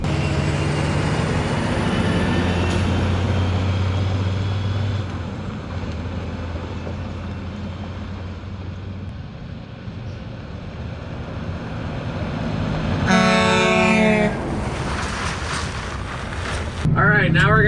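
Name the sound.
2000 Volvo truck engine driving and shifting gears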